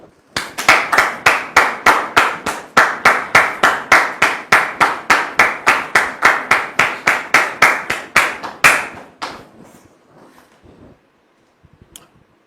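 A studio audience claps in unison, a fast rhythmic train of about thirty crisp claps that breaks into a few scattered claps and then fades to quiet.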